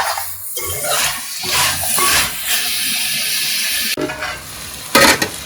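Mutton and chana dal curry being stirred in a hot pan, with loud continuous sizzling and hissing steam broken by scraping stir strokes, recorded close.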